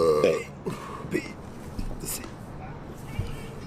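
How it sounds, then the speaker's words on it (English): A few short, deliberately forced burps come out close by, fairly quiet and scattered between bits of talk. "I can force myself to burp though."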